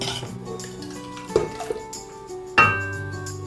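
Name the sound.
stirring rasam in a cooking pot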